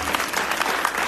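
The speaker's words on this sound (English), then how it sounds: "Come on, give yourself a round of applause." Summit attendees clap briefly, a short burst of scattered hand claps at moderate level with no voices over it.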